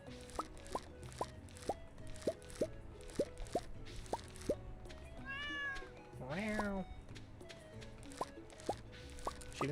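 Cat meowing in a farming video game, two short meows midway over a regular series of plopping drip-like game effects, faint and quiet, with someone talking at times.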